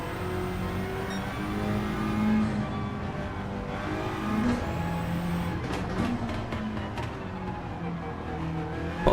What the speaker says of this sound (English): Pops and cracks, this old little Suzuki.